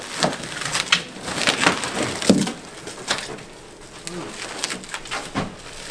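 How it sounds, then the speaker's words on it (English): Crinkling and tearing of wrapping as a gift is unwrapped, a series of close, irregular rustles and crackles with some brief louder snaps, while people talk intermittently nearby. "so, you know, so you want me to unwrap?"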